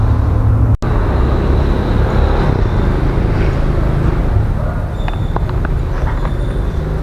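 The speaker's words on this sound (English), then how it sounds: "This bus go by here, this is the city bus going by right here in Cali." A city bus drives past on a street in Cali, Colombia, its steady engine rumble and road noise filling the scene amid general traffic, with a sharp knock near the start and lighter clatter toward the end.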